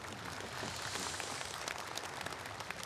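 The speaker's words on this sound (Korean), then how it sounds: "다시 한번 큰 박수 부탁드리겠습니다." Audience applause at the 67th Korean Memorial Day ceremony following a military band performance, a steady, fairly faint wash of many hands clapping from a distance throughout.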